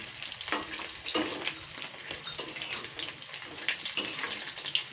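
Mourala fish pakoras frying in hot oil while being stirred and turned, giving a steady close sizzle with irregular scraping bursts throughout.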